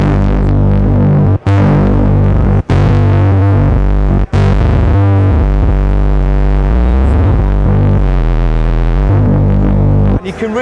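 Loud, saturated Rick Wakeman Minimonsta synthesizer tone, its external input boosted into overload, with heavy distortion, thick buzzing harmonics and a few abrupt cutouts, sustained throughout without any voices.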